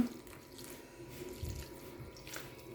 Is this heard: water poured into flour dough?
yes